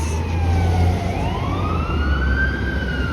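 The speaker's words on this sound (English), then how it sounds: "That's a fire truck." A fire truck siren wails steadily in midtown Toronto, its pitch dipping and then climbing again over low traffic rumble and wind.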